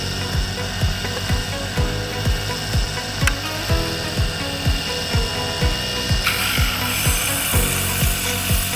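Chisel with a hardened steel edge being sharpened on a water-fed tool sharpening wheel: a steady mechanical grinding with a regular clicking rhythm roughly twice a second, fairly loud and close, with no voices.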